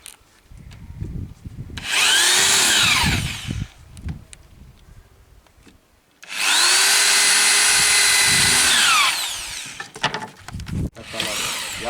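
Two long bursts of loud, high-pitched whining with rising and falling pitch from a power drill drilling, separated by quieter clatter and brief voices, in a village.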